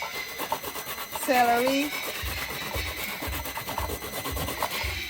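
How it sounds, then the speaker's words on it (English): Coconut, hot pepper, thyme and other herbs are ground and rubbed on a stone, giving a close, irregular gritty scraping. A faint voice speaks briefly partway through. "So it would be easier when you grind it on the sill."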